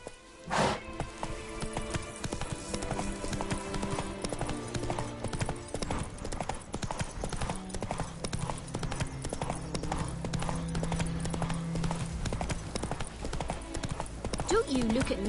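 Horse hooves clip-clopping at a gallop in The Witcher 3: Wild Hunt, a steady rapid beat running throughout, layered over game music and ambience with a brief whinny-like accent near the end.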